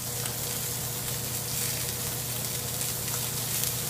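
A freshly flipped ribeye steak sizzles loudly and continuously in a hot pan, a dense, even hiss heard up close throughout with no voices.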